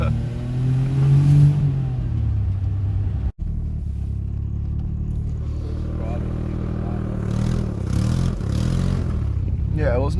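A car fitted with newly installed Mira suspension drives along, its engine rumbling steadily and revving up through the gears, close and loud, with a brief dropout partway and people talking over it.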